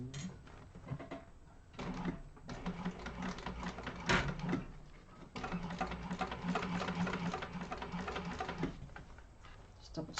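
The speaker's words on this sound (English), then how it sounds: "I'm going to sew across this one." Sewing machine stitching across the divider pocket of a fabric organizer bag, a fast close mechanical chatter running in long continuous bursts with brief pauses, while someone talks over it.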